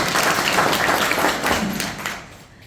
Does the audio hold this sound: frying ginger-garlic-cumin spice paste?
no